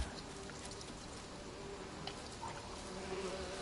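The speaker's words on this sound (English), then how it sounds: "Oh, is that a giant swarm of bees?" A giant swarm of bees in The Witcher 3 hums as a steady, dense buzzing drone, moderately loud and continuous, with no voices over it.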